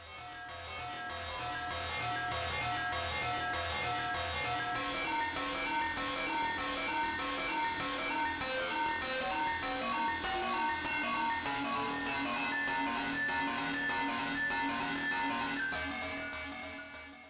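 A dense, continuous drone from a hacked Ellitone Multi-Synth, with layered, wavering tones and a chaotic, jangly texture, steady in volume and fading in and out at the edges.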